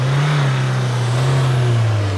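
The Mahindra Thar Roxx 5-door SUV's engine drones loud and close under acceleration, a steady low hum that rises slightly in pitch, with strong wind or road rush and no talk.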